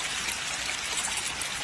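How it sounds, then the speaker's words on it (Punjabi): Water of the Chitti Vein stream runs steadily past a roadside bridge under construction in rural Punjab, a continuous soft rushing and trickling wash with no voices. "ਇੱਥੋਂ ਦੀ ਪਾਣੀ ਵਗ ਰਿਹਾ।"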